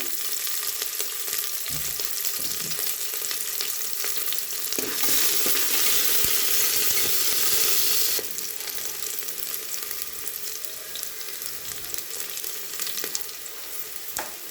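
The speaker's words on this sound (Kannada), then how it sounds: "ನೋಡಿ, ಹಂಗೆ ಈರುಳ್ಳಿ ಹಾಕ್ತಾಯಿದ್ದೀನಿ. ಈರುಳ್ಳಿ ಸ್ವಲ್ಪ ಬ್ರೌನ್ ಕಲರ್ ಬರಲಿ." Onions sizzle in a pot for a 500 g boiler-chicken biryani, a steady broadband frying hiss with occasional stirring scrapes, louder for a few seconds midway, then settling back to a constant sizzle with no voices.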